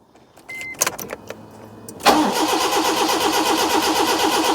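A Proton Wira car engine, immobilised after a compression test, turns over on the starter without firing: a few clicks and relay noises, then steady rapid cranking close by, continuing to the end without catching.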